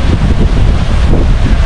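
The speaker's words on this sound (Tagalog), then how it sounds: "Lakas ng hangin." Strong, steady wind roars across a stormy beach in Dingalan, Aurora, buffeting the microphone with continuous gusty rumble and a faint wash of surf beneath it.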